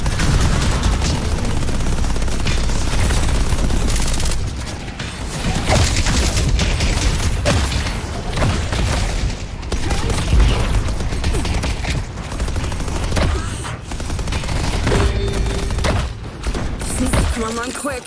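Turret gunfire in the video game Deadlock, dense rapid bursts of shots and booming impacts that keep going loud and close, with brief lulls and speech mixed in.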